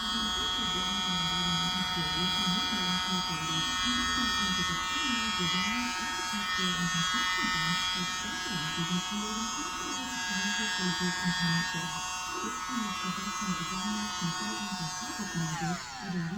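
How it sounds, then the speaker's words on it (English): A mini blower drones with a steady, high-pitched electric whine, blowing on acrylic pour paint (Amsterdam paint with cell activator) for bloom-style Christmas baubles. It runs continuously throughout with a voice talking over it. "Get my blower. I'm gonna blow right in the center."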